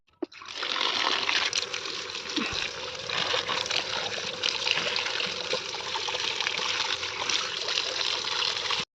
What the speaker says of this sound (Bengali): আর বেছে নিয়ে ভালোভাবে ধুয়ে নেব পরিষ্কার জলে